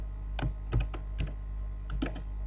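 Keys clack on a computer keyboard in a short, uneven series of soft taps over a steady low hum, with no voices.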